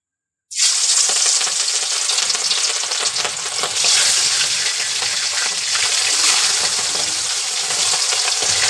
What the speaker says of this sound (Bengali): মাছটা আমি হালকা করে ভেজে নেবো